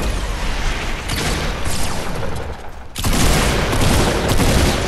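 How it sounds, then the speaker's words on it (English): Heavy gunfire and blasts in a Fortnite battle royale match, including a pump shotgun, rolling continuously and loud with dense overlapping shots, briefly dipping before a sharper burst resumes. "my pump never lets me shoot right away"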